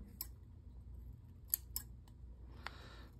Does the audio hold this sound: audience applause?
no